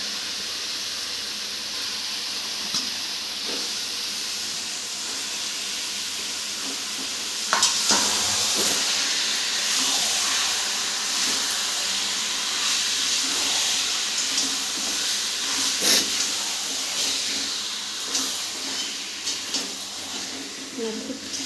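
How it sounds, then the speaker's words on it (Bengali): Chicken pieces for biryani sizzling and frying in a pot, with a steady hiss and intermittent scraping, clinking stirs near and clear, while a person talks over it. "নেড়ে চেড়ে কষে ঢাকা দিয়ে দেবো লবণ দিয়ে দিলাম লবণটা দিয়ে এবার আমি কষতে থাকবো"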